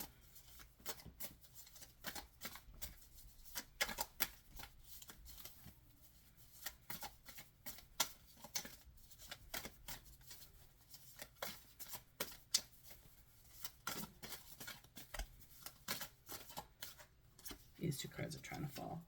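Tarot cards are shuffled in a long run of quick, crisp riffling slaps and flicks, close and fairly quiet, carrying on steadily for nearly twenty seconds.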